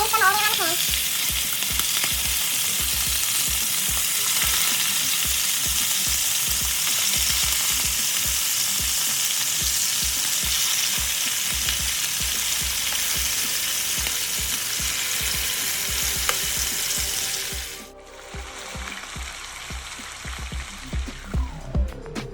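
Thick butterflied filet mignon steaks fry loudly in a pan, a steady dense sizzle with rhythmic low knocks, then the noise drops and thins out near the end, with no talking.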